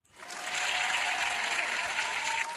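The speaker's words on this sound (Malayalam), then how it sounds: "എല്ലാവരും വിഷ്ണുക്കുട്ടനെ ഒരു ക്ലാപ്പ് കൊടുത്തേ" A class of children clapping together for a classmate, a dense, steady burst of applause rising quickly and holding for a couple of seconds without talk.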